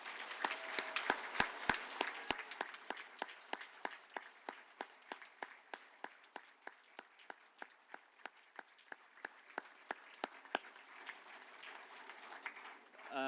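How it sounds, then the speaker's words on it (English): Applause for graduates at a graduation celebration, built from distinct individual claps in a sparse, slightly uneven rhythm, close and fairly crisp, with faint background murmur. "give a round of applause to the fantastic graduates that we have here"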